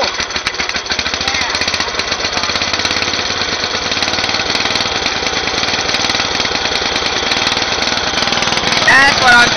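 A Spedex engine chugs and knocks steadily after a cold start, a close, loud, rapid rhythmic pounding that holds throughout with a faint voice near the end.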